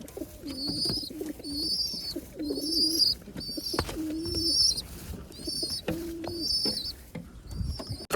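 Pet pigeons, a pair kept and fed at home, giving repeated low coos in a steady rhythm, with sharp higher chirps over them and faint clicks and rustles nearby.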